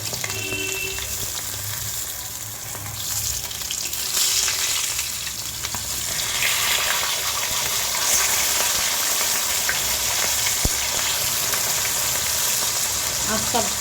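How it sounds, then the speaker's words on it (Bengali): Katla fish fries in hot oil close by, a steady sizzle and crackle, a continuous frying hiss that swells slightly partway through, with an occasional faint clink. "এদিকে মাছ ভাজাটা চলছে।"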